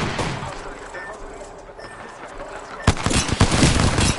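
Gunfire in Apex Legends: after a quieter stretch with scattered shots, a rapid volley of loud, close weapon fire erupts and continues in dense, repeated cracks.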